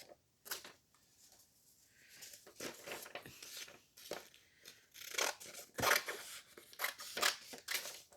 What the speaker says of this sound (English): we're going to use the scissors